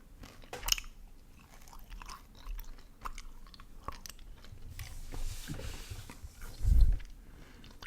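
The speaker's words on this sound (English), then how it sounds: "I'm just going to pop some gum in my mouth" Gum chewing close to the microphone, soft wet smacks and faint crunches at an uneven pace, with one louder bump near the end and no talk.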